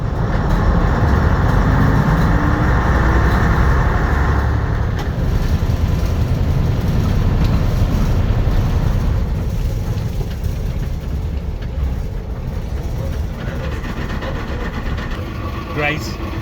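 Steady engine drone and road rumble fill the cabin of a semi-automatic bus on the move, a continuous loud low hum with little variation, and a voice is heard faintly over it.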